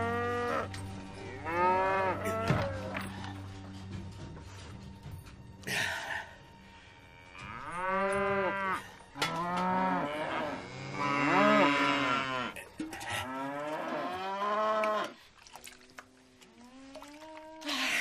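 Several cows on a farm moo loudly and close by as they are driven out of the barn. Their long drawn calls come one after another and sometimes overlap, with brief pauses between them.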